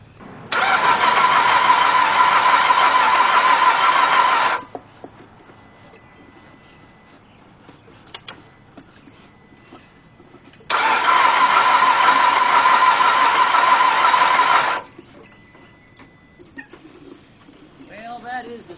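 A Cadillac CTS, freshly fitted with new cam sensors, cranks loudly in two long bursts of about four seconds each, separated by a quiet pause, without the engine catching.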